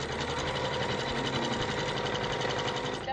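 An embroidery machine stitches a decorative stitch in contrast thread over purple fabric, a steady close mechanical hum with rapid, regular needle beats and no pauses.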